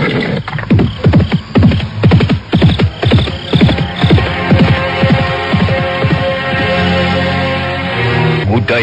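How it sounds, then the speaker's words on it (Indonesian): A horse gallops at night over a stony road among hills, its loud, rapid, rhythmic hoofbeats echoing before they give way to a steadier sustained tone. "Suara kakinya yang menderap di atas jalanan berbatu bergema dipantulkan oleh bukit-bukit di sekitarnya"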